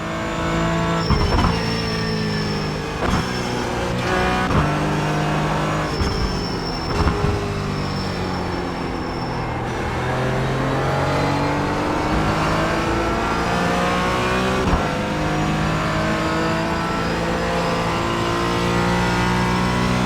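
A race car engine in the iRacing sim game revs and roars continuously, shifting pitch as it accelerates and brakes, with occasional tire squeal and no talking.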